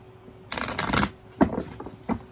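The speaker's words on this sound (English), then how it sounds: "2 more shuffles for Scorpio." Tarot deck shuffled by hand in a quiet room, a quick riffle of papery card slaps followed by a few softer separate taps and flicks.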